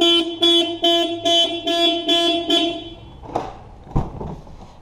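A Chevrolet Astra car alarm sounds a series of six loud, evenly spaced horn-like beeps close by, then stops, followed by a couple of clicks and a thump.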